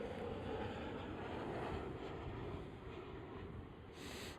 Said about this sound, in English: There is a Dreamliner arriving on the other runway